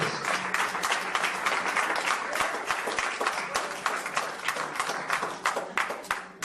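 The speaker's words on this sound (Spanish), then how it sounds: "Den un aplauso al Señor, gloria a Dios." A church congregation applauds together, a dense, sustained burst of many hands clapping, loud and continuous for several seconds with no speech over it.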